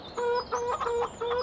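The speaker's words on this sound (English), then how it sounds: "And welcome to the chicken sounds." Chickens cluck in the Farming Simulator 17 video game, with three or four short bursts of clucking coming close and clear in a steady rhythm. No one talks over them.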